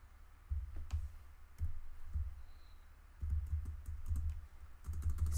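Keys on a computer keyboard, the spacebar and enter among them, clack in short bursts of muffled thumping presses during a video game, close and fairly quiet with no talking.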